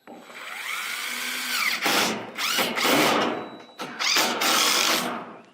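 A power drill drives screws into wood while building a chicken coop, with several whirring bursts that rise and fall in pitch, separated by short pauses, close and loud.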